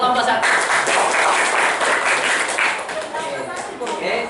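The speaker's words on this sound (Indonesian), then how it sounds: "Tepuk tangan buat kelompok satu." A classroom group claps for the first group after a presentation, a busy spatter of hands over about four seconds that thins slightly toward the end, with voices mixed in.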